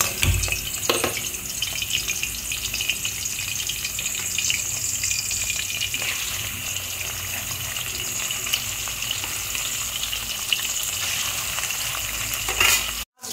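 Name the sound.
koi fish frying in hot oil in a wok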